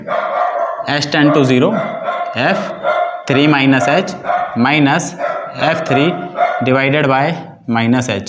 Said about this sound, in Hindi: यार मेरा कुत्ता बहुत भौंक रहा है